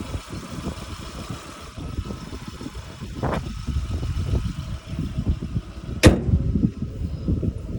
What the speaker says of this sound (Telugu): ఇప్పుడు విను మీ శాంత్రో కార్ సౌండ్ ఎలా ఉంది